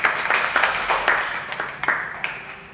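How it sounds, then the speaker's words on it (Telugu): Children clapping on request during a classroom storytelling session, a short ragged burst of hand claps lasting a couple of seconds, close and fairly loud, with a faint voice underneath. "వెరీ గుడ్, క్లాప్స్ కొట్టాలి"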